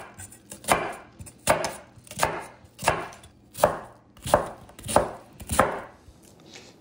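White onion chopped with a knife on a board, about eight evenly spaced, crisp strokes in a slow steady rhythm, close and alone.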